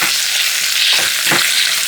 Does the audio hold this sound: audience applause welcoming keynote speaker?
no